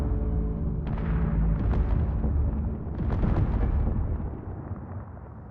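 Turrets firing in the video game Space Engineers: a loud, sustained barrage of booming artillery-like blasts with rolling rumble, several sharp bursts layered on top, fading slightly at the end.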